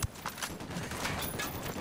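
Enemy gunfire in Ghost Recon: Wildlands arrives as a string of muffled, evenly spaced shots that seem somewhat distant, continuing steadily without any talk.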